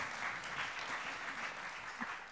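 Steady applause from a keynote audience at the #UniANDRH2019 HR conference, a dense continuous patter of many hands clapping with no voices over it.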